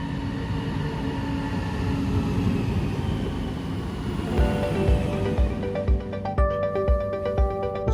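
A passenger train runs on the Kinnekulle line in Sweden, a steady loud rolling rumble that gives way partway through to rhythmic wheel clatter over rail joints, with a tonal hum.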